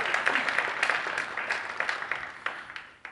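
Applause from a church congregation during a sermon, many hands clapping in a steady dense patter that thins out toward the end, moderately loud with no talk over it.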